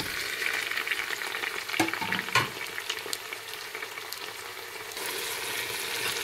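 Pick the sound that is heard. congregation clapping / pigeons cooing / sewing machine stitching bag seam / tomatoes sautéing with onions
tomatoes sautéing with onions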